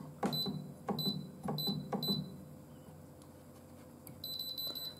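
Electronic beeps from the control panel of a ConvectionWorks Hi-Q Intelligent 9-slice XL convection countertop toaster oven as its dial is pressed, coming in short repeated bursts, three or four close together and then a longer tone at the end, with no talking.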